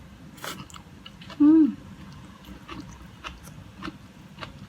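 Someone biting and chewing homemade Korean kimchi geotjeori, fresh napa cabbage salad, with one loud close crunchy bite followed by softer wet chewing sounds at close range.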